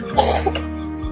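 A single close, husky cough, short and throaty, with a brief clearing rasp at the end.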